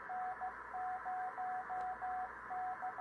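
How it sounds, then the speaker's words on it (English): The N0YK amateur radio beacon in grid DM98 sends Morse code as a steady, clear tone keyed in rhythmic dots and dashes over a soft hiss of static. "I can actually copy him with my Morse code reader."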